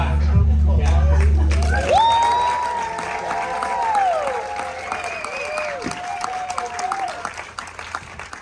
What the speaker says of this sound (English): we can create a nice warm round of applause for our next tale,